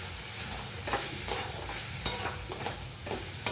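Chicken with ginger and spices sautéing in a pan, a continuous close sizzle with regular scraping strokes from a spoon being stirred, loud and without voices.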